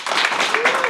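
An audience applauds during a metropolitan council meeting, a dense, steady burst of clapping filling the room for a moment without pause.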